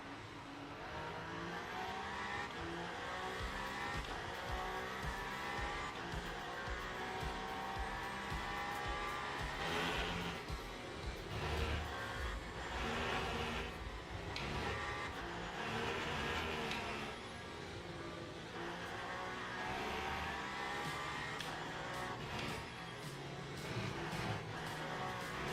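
GT3 race cars, including a Porsche, roar continuously in the Le Mans Ultimate racing game, engines revving and shifting through gears in a dense, sustained wall of sound with rising and falling pitch.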